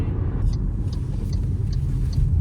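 An MG HS plug-in hybrid SUV pulls away in sport mode, its muffled road and drivetrain rumble steady and close from inside the cabin with no talk.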